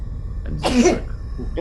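A single sharp human sneeze at a tabletop role-playing session, loud and close, bursting out briefly between quiet spoken words.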